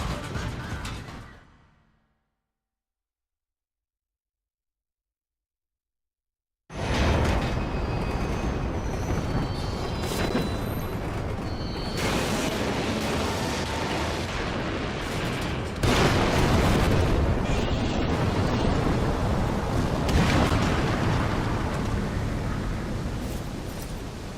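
Explosion aboard a train in the PlayStation 2 game The Bouncer: a fading roar, then silence, then a sudden sustained loud rumbling blast of broadband noise that keeps churning like rushing water and debris, swelling again midway with no talk.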